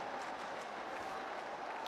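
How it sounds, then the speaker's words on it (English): A distant stadium crowd at a Bangladesh cricket match cheers and applauds in a steady, dense roar, faint and continuous with no distinct voices standing out. "Crowd cheering every run, understandably."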